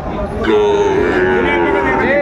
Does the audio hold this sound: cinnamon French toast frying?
no